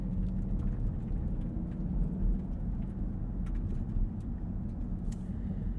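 A 2020 Dodge Durango SRT pulls ahead under gentle throttle, its engine and road noise forming a steady, close low rumble with no sharp surges throughout.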